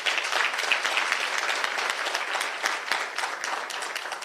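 Audience at a women's day celebration applauding, a dense, even burst of many hands clapping close by that fills the whole stretch without a break.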